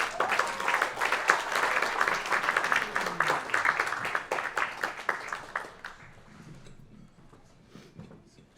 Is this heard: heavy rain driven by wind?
no